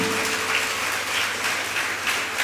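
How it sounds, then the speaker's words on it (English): An auditorium audience at a school digital fest inauguration clapping steadily in a dense, continuous wash, loud throughout and without voices. "give a big round of applause for the CyberSquare team"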